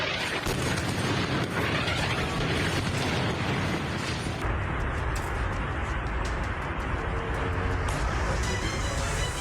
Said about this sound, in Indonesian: Ledakan juga terjadi di sejumlah titik di Isfahan